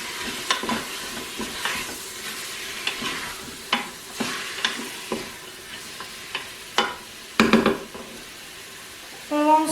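Onion and garlic stirred into chicken inside a Cookeo multicooker, a steady sizzle broken by repeated scraping strokes of the spoon, close and clear with no talking.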